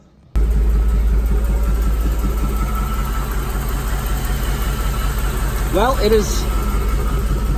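A rock crawler's engine idles steadily after its sensor was cleaned, a low continuous rumble throughout, close by, with a brief spoken word at the start and a short voice near the end.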